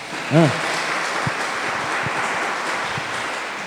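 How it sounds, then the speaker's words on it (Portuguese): Applause from a church seminar congregation, a fairly loud wash of clapping with a brief voiced exclamation near the start and a few sharp thumps. "Você pode dar um aplauso a Jesus para o povo acordar?"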